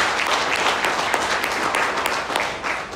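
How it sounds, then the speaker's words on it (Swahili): Audience applause from a crowd at a public gathering about the electricity utility TANESCO in Iringa, Tanzania: steady, dense clapping that fills the whole stretch at even loudness, with no voices over it. "Tuwapigie makofi mengi."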